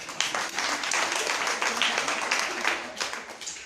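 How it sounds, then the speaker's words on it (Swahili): Church congregation applauding during a Swahili sermon, a dense, continuous wash of clapping at moderate distance lasting a few seconds. "Nipigieni makofi basi."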